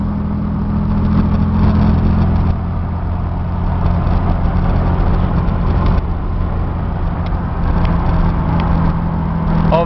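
A 6-cylinder Chevy Camaro with a five-speed manual cruises at 55 mph, giving a steady, loud drone of engine and road noise from inside the car with no talk.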